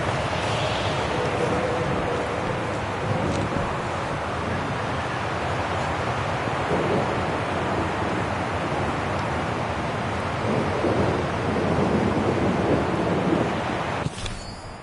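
A steady, dense roar of wind and heavy rain from a thunderstorm in the video game Syberia The World Before, continuous and loud for the whole stretch, with no talking.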